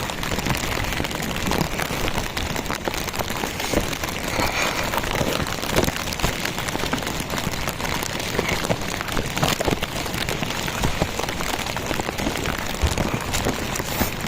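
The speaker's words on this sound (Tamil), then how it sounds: "நல்ல மழை கீழே பார்த்தீங்கன்னா தெரியும்." Heavy rain pours down in Valparai, a constant dense hiss of drops on surfaces, loud and unbroken for the whole stretch with no talking.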